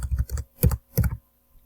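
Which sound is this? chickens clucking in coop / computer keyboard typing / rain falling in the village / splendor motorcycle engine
computer keyboard typing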